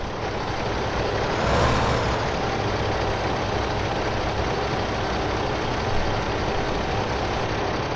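A tractor engine in Farming Simulator 2015 on Xbox One drones steadily and loudly throughout, a continuous low rumble with a faint high whine and no talking.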